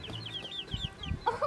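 Newly acquired hens at a homestead chicken coop give soft, repeated clucks and chirpy calls, fairly faint and close, with a couple of louder calls near the end over light handling noise.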